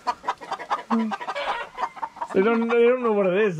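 Guinea fowl and chickens clucking and calling in a backyard coop, busy overlapping bird calls with a loud harsh drawn-out cry near the end, while a person talks over them.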